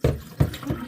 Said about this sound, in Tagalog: Excess na tubig.